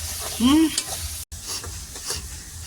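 Spice masala for chicken being stirred and fried in hot oil, with a steady sizzle, scraping stir strokes and a brief whistle-like squeak, close and moderately loud.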